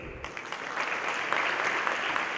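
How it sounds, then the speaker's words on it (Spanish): Audience applause greeting a guest speaker at a technology talk, a dense steady wash of clapping that swells slightly and holds for about two seconds without voices. "vamos a recibir con un fuerte aplauso al señor Joan Drake"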